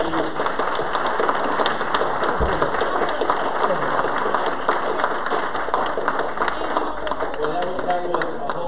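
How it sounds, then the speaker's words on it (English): A church audience at a comedy and couples night gives a sustained round of applause, many hands clapping steadily at moderate loudness with some crowd murmur mixed in. "So let's give them one more round of applause and thank you."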